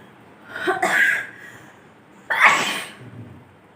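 Two loud, close sneezes arrive about a second and a half apart, each a sharp breathy burst that trails off, set off by tickling the inside of the nose with a long blade of grass.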